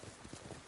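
Horse hooves clip-clopping in Ghost of Tsushima, a few soft low thuds at a steady rhythm, fairly quiet and brief.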